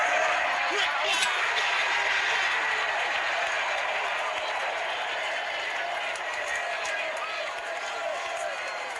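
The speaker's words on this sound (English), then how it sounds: "you heard the crowd." Wrestling crowd roaring and cheering during a Vader vs Ric Flair match, a dense, sustained wash of arena noise that stays loud throughout with faint applause mixed in.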